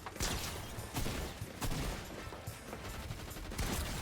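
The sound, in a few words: gunfire in Fortnite video game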